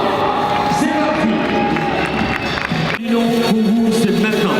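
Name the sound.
audience applause as contestants walk on stage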